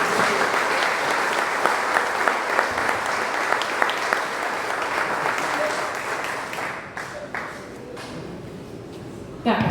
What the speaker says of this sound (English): if we could just give Ruth a round of applause